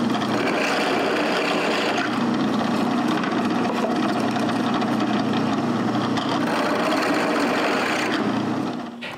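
A drill cuts a bolt-head-shaped recess into a wooden beam, making a loud, close, continuous grinding roar for about eight seconds before it winds down.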